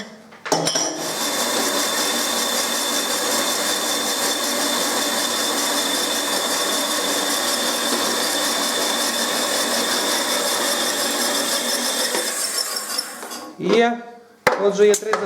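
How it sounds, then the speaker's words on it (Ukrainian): A metal gear blank being cut on a power saw in a workshop, a steady loud grinding whine lasting over twelve seconds before stopping, with a few clanks and handling knocks at the end. "я то роблю на пилці"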